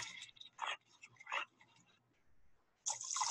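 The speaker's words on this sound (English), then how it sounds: "Splashing around in the water, swimming." River otters splash and swim in salt marsh water, giving several short, close bursts of splashing separated by quieter gaps, then a longer, brighter spell of splashing at the end.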